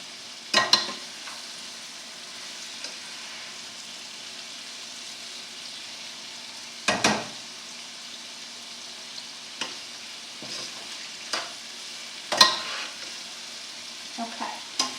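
Parboiled cremini mushrooms brown in a pan with a steady soft sizzle, broken by several sharp scraping stirs spaced through the stretch, close and moderately loud, with no talking.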